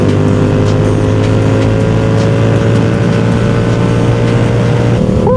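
Steady, loud wind roar buffets a motorcycle rider at speed in a strong crosswind, continuous broadband rush with a low engine drone underneath, no talking.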